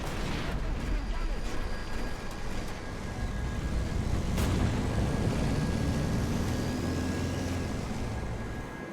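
Heavy artillery fire in War Thunder, with dense continuous rumbling explosions and engine drone filling the scene, one sharp crack standing out midway.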